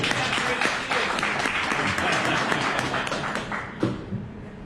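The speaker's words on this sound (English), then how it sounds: "Give her a big round of applause." A small audience claps in a round of applause, dense and close at first, then thinning out toward the end with a soft thump near the close.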